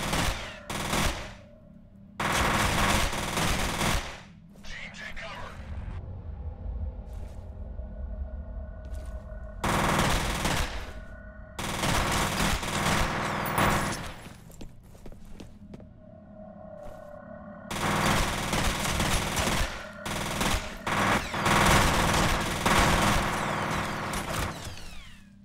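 Submachine gun fire in the 2005 horror shooter F.E.A.R., loud sustained bursts of rapid automatic shots in several long strings separated by short pauses, with game ambience between bursts.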